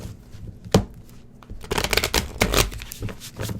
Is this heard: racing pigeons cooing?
no